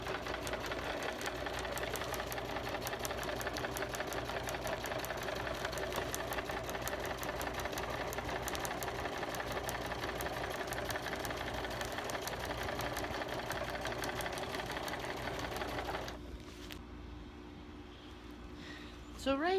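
A sewing machine stitches window treatment fabric with quilting thread, running in a continuous close, steady whir for most of the time before stopping abruptly, leaving a quieter background.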